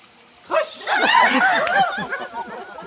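A person vocally imitates an ostrich call: a burst of warbling, squawky vocal sounds lasting a couple of seconds, close and fairly loud, with no other talk.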